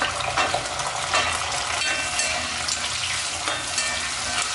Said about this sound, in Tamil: வெங்காயம் போட்டு நல்லா எண்ணெயிலே நல்லா வதங்கட்டும்